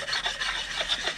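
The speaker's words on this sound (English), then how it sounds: "So we'll just run a sharpening block over it." A sharpening block is rubbed back and forth over the mounting surfaces of Ford 302 Cleveland cylinder heads, giving close, rasping scrapes in a quick repeated rhythm of about five or six strokes, with no talk.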